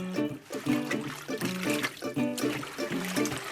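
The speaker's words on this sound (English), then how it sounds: "you gotta wash them. You gotta wash them real good" Turnip greens being washed in water, a steady splashing and trickling close by, with a voice talking over it.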